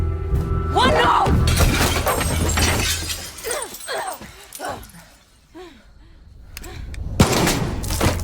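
In Far Cry 6, a sharp gunshot rings out with glass shattering and crashing down, amid a busy cinematic scene with voices and commotion, then another loud burst of breaking near the end.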